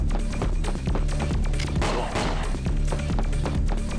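Rapid SMG fire and grenade blasts from the video game Winback come in dense rhythmic bursts, loud and continuous with heavy low thuds mixed in.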